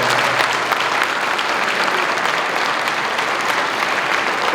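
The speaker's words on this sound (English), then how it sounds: "So he deserves a round of applause." An audience at an assemblymember's inauguration ceremony applauds loudly and steadily, a dense, sustained clapping from a sizable indoor crowd.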